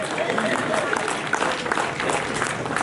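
Audience applause at a live comedy gathering in Jagdalpur, a dense, steady wash of clapping held throughout, with some crowd voices mixed in.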